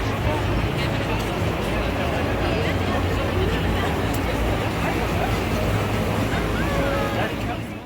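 A water fountain at Riyadh Boulevard rushes and splashes in a steady, loud wash, with crowd chatter and a person talking over it.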